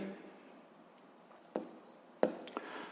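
Pen writing by hand on paper, a soft close scratching with a couple of sharper taps, quiet and alone.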